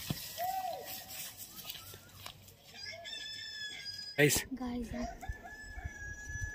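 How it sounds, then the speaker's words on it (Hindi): A rooster crows partway through, loud and close, amid outdoor mountain ambience, with someone talking briefly before and after. "मुर्गी की आवाज़ आ रही है"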